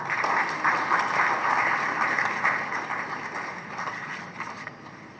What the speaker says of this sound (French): sous vos applaudissements, Maître Charles Danovan.